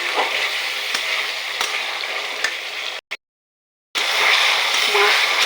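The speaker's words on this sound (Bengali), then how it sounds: "মশলাটার মধ্যে আমি মাছটা একটু কষিয়ে নেব।" Chang fish searing in spice paste in a pan, a steady loud sizzle and fry that cuts out briefly for about a second before resuming.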